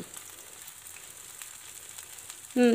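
Leftover rice cutlets shallow frying in oil over a low flame, a gentle even sizzle heard close, with a short loud clatter or clunk at the very end.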